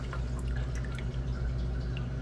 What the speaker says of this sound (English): it's just barely trickling out